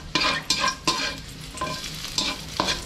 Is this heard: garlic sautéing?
yes